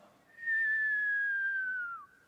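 A person whistles one long, steady, gradually falling tone, mimicking a bomb dropping during an air raid. The whistle is clear and close, lasts about one and a half seconds, and is set against a quiet background.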